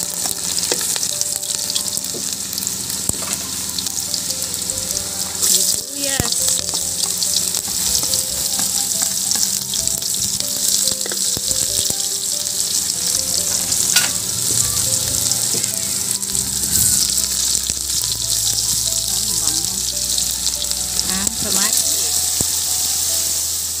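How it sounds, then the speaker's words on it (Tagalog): Onions and garlic sizzle in a pan for a Filipino binagoongang baboy, a steady bright frying hiss with occasional stirring scrapes and clatters, close and continuous, with some faint low background noise. "saka natin igisa ang buyas ay bawang"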